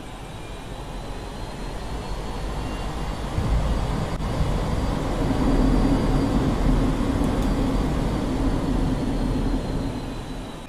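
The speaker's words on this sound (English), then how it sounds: "Mig 19P with afterburner." A MiG-19P jet engine in the DCS World flight simulator spools up with afterburner: a steady, broad turbine roar that swells in loudness partway through and holds strong, with no voices.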